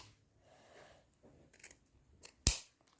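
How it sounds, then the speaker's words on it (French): Scissors snip once through the end of a clover stem, a single sharp, loud cut after a few faint rustles of handling. "bien couper l'extrémité."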